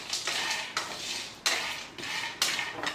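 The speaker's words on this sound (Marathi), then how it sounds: "गरम कढईमध्ये आपल्याला ह्यांना फक्त थोडंसं कुरकुरीत करून घ्यायचं आहे" Thandai spices are dry-roasted in a hot kadhai, stirred with repeated scraping strokes roughly every 0.7 seconds. Each stroke brings a bright rasp of spatula on metal over a faint sizzle.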